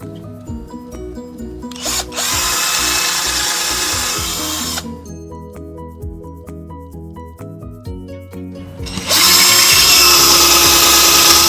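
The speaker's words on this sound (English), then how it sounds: "Now I'm going to finish the holes and countersink." Power drill whining loudly through a wooden skateboard deck while its holes are finished and countersunk, with steady motor hum between two long, harsh bursts of cutting into the wood, close up and alone.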